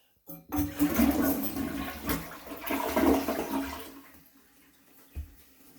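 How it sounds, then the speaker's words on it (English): A toilet flushes once, just after a new wax ring has been fitted, starting with a sharp rush of water, then a loud swirling drain that fades into a trickle, with a small knock near the end. "anytime you're checking a wax ring, like I'm doing right now, a good practice is to flush it 3 times."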